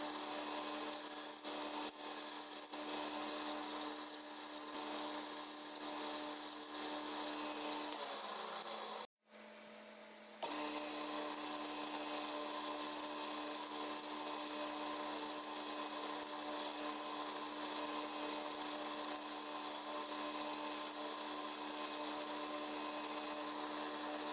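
A motorized sharpener grinds the bevel of an Uncle Henry knife blade with a steady, continuous high grinding whine close by, broken once by a brief stop before running on again.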